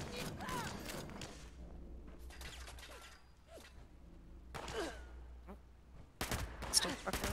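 Video-game gunfire in Fallout 76, heard as intermittent bursts of shots with whooshing and mechanical game effects, and voices talking in between.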